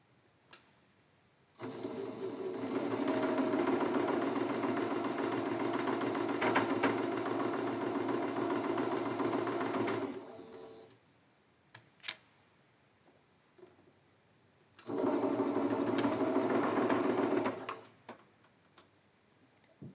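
A sewing machine chain-pieces quilt blocks for a churn dash quilt, running in a long steady stitching burst of about eight seconds, then a pause with small clicks, then a second shorter run.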